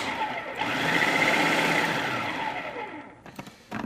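A food processor pulses whole nuts for pesto in a short steady whirring burst that runs about three seconds, then stops with a few clatters as the blade winds down.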